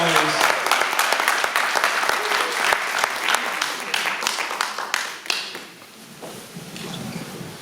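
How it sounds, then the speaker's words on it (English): Audience applause and cheering at a Kwanzaa celebration, loud and dense for about five seconds, then thinning to scattered claps with some crowd voices. "Y'all welcome over with a strong, awake round of applause."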